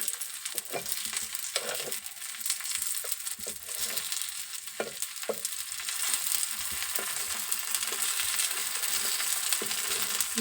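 Masala paddu made from leftover dosa batter fry in an iron paddu pan, a soft continuous sizzle broken by light clinks and scrapes as they are turned, close and steady with no talk.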